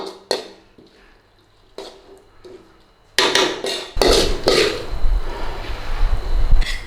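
A utensil scrapes and clatters against a pan of beef and banana pepper stir fry, a few soft taps at first and then louder, busier stirring noise toward the end.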